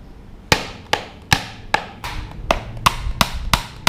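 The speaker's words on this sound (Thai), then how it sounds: "เดี๋ยวผมจะมาตอก มันเข้าไปยังจุดนี้นะครับ" Hammer blows drive a metal rod into a small homemade fingerboard mini ramp, nine sharp, evenly spaced strikes about every half second, loud and close, with no talking.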